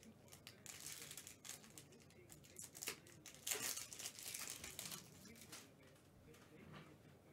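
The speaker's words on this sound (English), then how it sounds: "Let's rip the packs first." Trading card packs being torn open during a card break, a steady run of crinkling, tearing foil wrappers and shuffled cards close by, with brief louder rips midway and a voice talking at moments.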